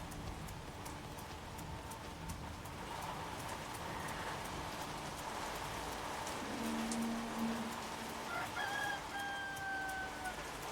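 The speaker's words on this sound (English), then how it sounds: "Is there a rooster somewhere around?" A rooster crows from somewhere nearby in the Code Violet video game, a rising, drawn-out call near the end that cuts over a steady wash of rain-like ambient noise.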